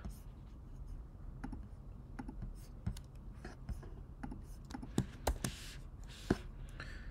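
A keyboard shortcut, Command Shift P, is typed on a computer keyboard while working in the Cursor code editor. It gives faint, sparse, quiet keystroke clicks and taps spread unevenly over several seconds.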